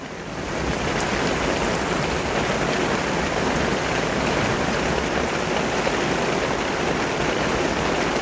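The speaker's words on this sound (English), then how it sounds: "We've got a little bit of rain again tonight. A lot of rain." Steady, dense rain falling at night in France, a constant loud hiss of drops on surfaces with no voices.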